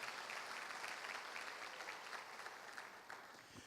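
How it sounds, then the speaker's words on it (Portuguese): Congregation applauding in a church: steady, dense clapping from many hands filling the room throughout, moderately distant, with no distinct speech. "Vamos aplaudir a palavra de Deus."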